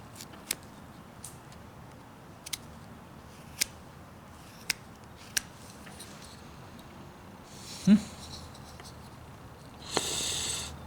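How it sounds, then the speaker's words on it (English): Whittling knife cutting the hat of a small carved wooden figure: sharp, sparse clicks and snips at uneven intervals, close and quiet, with a couple of brief rustling scrapes near the end. "now I'm just going to bring this hat, cut it just like this"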